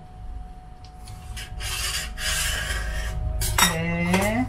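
A knife rasps and scrapes through wrapped dough on a kitchen counter with a few short rubbing strokes, then a bright metallic clink near the end, close and fairly quiet.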